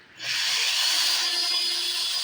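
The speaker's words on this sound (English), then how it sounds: "I'm not pulling with the drill, just letting the drill do the spin." Power drill spinning an engine part during a 440 big bore top end rebuild: the motor quickly spins up to a steady high whine that holds throughout, loud and close.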